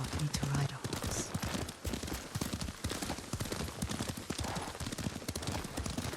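Horse hooves clip-clop in a steady galloping rhythm during riding in the Ghost of Tsushima video game, close and continuous while voices talk over them.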